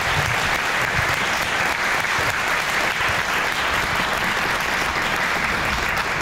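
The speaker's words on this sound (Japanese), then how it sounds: "最後にですね、パネリストの皆さんに拍手を送っていただきたいと思います。" Sustained, dense applause from a large audience fills the hall after a science forum's opening panel session, steady and loud throughout with no break.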